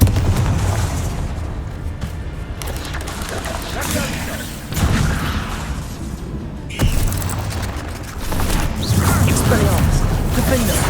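Confringo fire spells explode in the Hogwarts Legacy video game as a run of loud booms and bursts layered over dense, rumbling combat noise.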